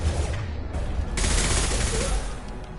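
Concussive shot and rapid gunfire in the video game Mass Effect 2, a dense burst of shots and a heavy blast, loud and continuous with no pause.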